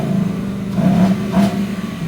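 A 2024 Ford Mustang GT V8 with automatic transmission, revved by remote start, gives two rising engine blips over a steady idle drone, fairly close and alone.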